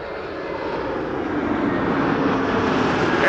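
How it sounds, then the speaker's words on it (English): An Air Transat Airbus A321neo airliner arrives at Amsterdam Schiphol, its engines a steady, broad roar that swells gradually louder as it nears, with no talk over it. "Air Transat A321neo arriving from Canada."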